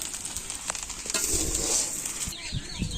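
Khichuri cooking in a pan in a village kitchen, with loud sizzling and frying plus stirring scrapes that swell and ease over a few seconds, and no voices.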